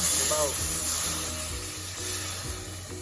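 Chicken pot pie filling sizzling and bubbling in a pan, a steady close frying hiss with soft repeated stirring scrapes, and a voice briefly audible underneath.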